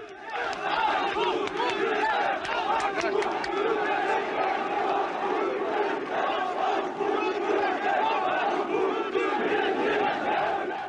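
An enthusiastic crowd of militants at a 1980 rally for Colonel Türkeş chants and shouts continuously: a dense, loud mass of voices with rhythmic cheering and chatter, steady for the whole stretch.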